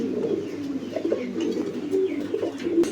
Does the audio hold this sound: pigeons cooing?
yes